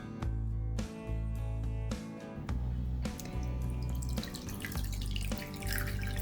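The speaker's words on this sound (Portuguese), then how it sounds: "Então eu vou colocar água e vou deixar ele absorver a água." Water is poured onto bulgur wheat to hydrate it for kibbeh, a close, loud stream that stops and starts in several pours, with splashing and drips between them.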